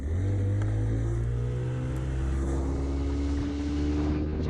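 Pongrass Surfmaster boat powering hard from rest in a hole shot test, a loud steady engine drone with rising harmonics as it accelerates, continuous and close with no talk.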